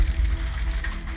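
Rain falls at night in a steady, dense patter with a low, rumbling wash underneath, continuous and close, with no voices.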